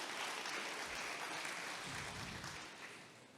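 Dense, sustained applause from the audience at a Jashn-e-Hind mushaira and kavi sammelan marking Azadi Ka Amrit Mahotsav, a steady wash of clapping that fades slightly at the end.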